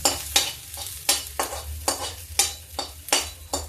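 Garlic and chili sizzle in a small amount of hot oil while being stirred, producing a run of sharp, close scraping and crackling bursts about every half second.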